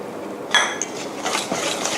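A utensil stirring thick flour batter for fried bananas in a bowl, with one bright clink followed by soft, steady swishing and faint knocks.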